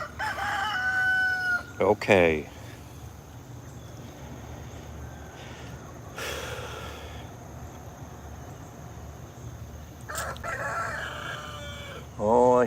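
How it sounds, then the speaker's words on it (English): A young rooster crows at a farmyard, ragged calls near the start and again toward the end, with quiet background and a person speaking briefly. "Oh, I hear that young rooster crowing."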